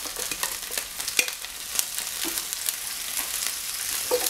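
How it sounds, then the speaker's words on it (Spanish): Red onion and celery frying in a pan, a close, steady sizzle with crackling pops and occasional stirring, with no voices over it. "Vamos a freír la cebolla"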